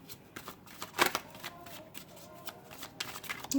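Tarot cards are shuffled during a reading, giving a run of close, crisp riffles and slaps with brief pauses between bursts, and no one speaking.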